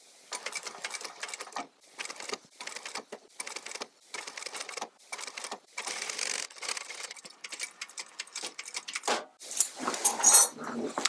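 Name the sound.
sewing machine sewing piping cord onto fabric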